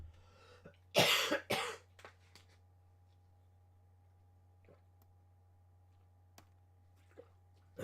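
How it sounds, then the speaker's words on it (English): Someone recovering from a cold gives a short burst of two or three close, loud coughs, followed by quiet room sounds and faint clicks. "Still have a little bit of a cough."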